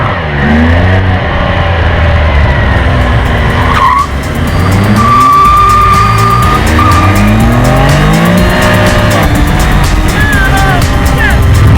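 A 2015 Can-Am Spyder F3 three-wheeler doing a burnout, its engine revving hard in repeated rising sweeps under a continuous loud, close tire squeal that lasts the whole stretch.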